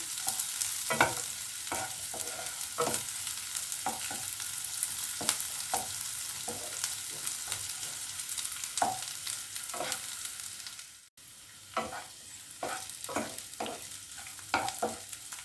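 Thinly sliced ginger and garlic cloves fry in a pan, a steady close sizzle broken by repeated scraping strokes of a stirring spoon, with a brief drop in the noise near the end before the stirring resumes.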